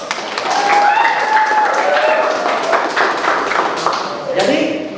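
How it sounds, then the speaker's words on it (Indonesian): A classroom of Indonesian students applauds a student group, a dense sustained patter of many hands clapping at close range, with voices and squeaks mixed in before the clapping thins out near the end. "Tepuk tangan untuk kelompok"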